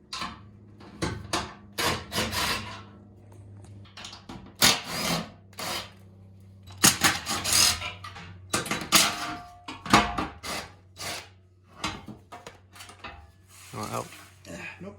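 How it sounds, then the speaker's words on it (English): Intermittent metallic clanks, scrapes and short tool bursts come up close as the front skid plate is removed from a Jeep Gladiator Rubicon, irregular and uneven across the stretch. "We're gonna start off actually by taking off the front skid plate right here."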